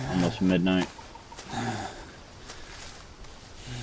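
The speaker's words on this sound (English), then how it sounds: "Every time I hear that bird chirping in the middle of the night," In the survival game Green Hell, a bird calls at night in a few quick, bright bursts near the start, with someone talking quietly over the dark jungle ambience.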